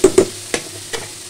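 A spoon stirs tomatoes and onions in a hot pan, giving a few quick scraping taps over a soft, steady sizzle of frying.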